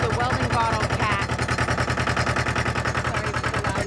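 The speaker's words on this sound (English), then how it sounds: "Sorry for the loud noise, but it's a wonderful tractor." A loud tractor engine chugs in a fast, even pulse on a farm, the rhythmic thumping dominating throughout, with faint voices underneath.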